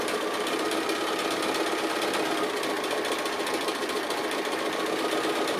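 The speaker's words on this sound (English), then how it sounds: "The stitch length is being created by my movement because it's free motion." A sewing machine hums in a fast, continuous whir while free-motion quilting a dragonfly quilt, the stitching steady and close with no pauses.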